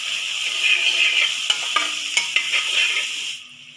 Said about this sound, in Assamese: এতিয়া ভালকৈ ভাজি ল'ব লাগিব।